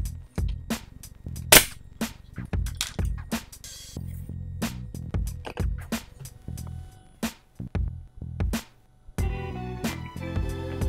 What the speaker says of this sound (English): I used some wood glue and then put in some brad nails